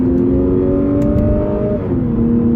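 A Lexus RC sports car in Sport mode accelerating, its engine giving a steady loud drone that rises in pitch, dips briefly at a gear change, then settles and climbs again, heard from inside the car.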